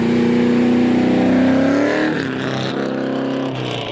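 An LS-swapped BMW E36 roars under hard acceleration, its engine note climbing steadily then breaking up as the wheels spin, loud and close with a sustained revving drone throughout.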